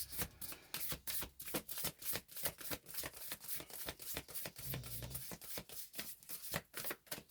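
Playing cards being shuffled by hand close up, a rapid run of crisp riffles and flicks in bursts with short pauses, fairly soft and with no talking.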